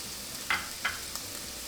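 Crushed, finely chopped garlic frying in a pan as the base of a Filipino shrimp curry: a soft, quiet sizzle with two or three brief spatter bursts close by.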